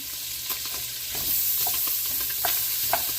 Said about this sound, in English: So let's stir it to melt down.